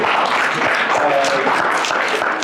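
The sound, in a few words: audience applause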